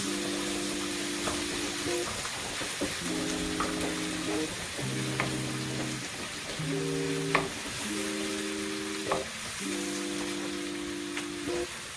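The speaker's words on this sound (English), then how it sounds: "So I'm just going to put the onions in now, and we don't need really to cook them completely. We just need to sweat them" Onions sweating in a frying pan for a peppercorn sauce to go with beef steak, a soft, even sizzle lying under a louder, steady melody of sustained musical tones, with a few faint utensil clicks.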